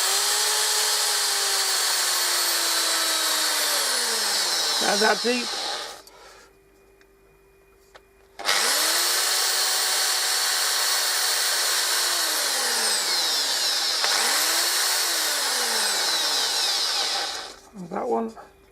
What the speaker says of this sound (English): Then just drill them out.